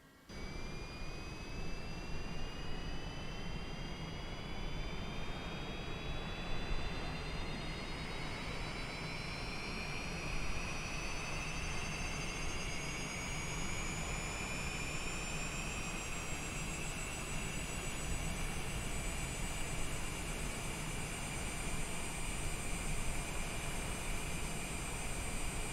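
A Citation Longitude business jet engine in Microsoft Flight Simulator spools up steadily, a loud continuous roar with a rising whine that climbs in pitch throughout, with no talking.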